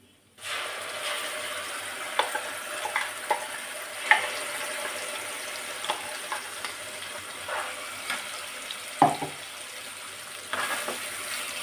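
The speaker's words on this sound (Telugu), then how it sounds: "ఇవన్నీ బాగా కలుపుకోవాలి. కొంచెం ఈ ఆయిల్ అంతా పైకి వచ్చేదాకా ఉడికించుకోవాలి" Ground chutney with curry leaves and turmeric cooking in oil in a pan, a moderate sizzle broken by repeated scraping stirs and occasional knocks of the spoon against the pan.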